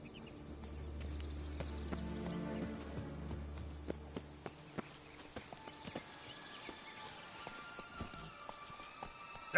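Roach the horse's hooves clip-clop steadily in Witcher 3: Blood and Wine, a close, rhythmic patter of hoofbeats at a walking gait over a quiet game soundscape.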